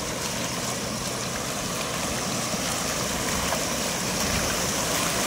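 Water rushes steadily through a fishing net set in a lake, a constant broadband flowing roar with no pauses, close and fairly loud.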